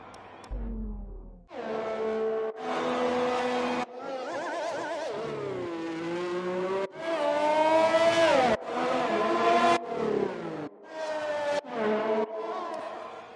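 Race car engines from a racing video game on a wet Baku street circuit whine and rev continuously, pitch rising and dropping with gear shifts, loud and close throughout.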